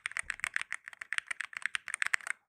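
Typing on an Ala 68 Hero Hall Effect keyboard, Topo version: a rapid, close run of crisp, clacky keystrokes in an uneven rhythm, heard alone without talk.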